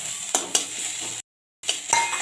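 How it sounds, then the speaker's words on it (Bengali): Ginger, garlic and green chili paste fries in a pan for a taro curry. The hiss is steady, with sharp spoon scrapes and clinks against the pan, and there is a brief silent gap midway. "এটাকে যতক্ষণ না কাঁচা গন্ধটা যাচ্ছে ততক্ষণ আমি ভেজে নেব"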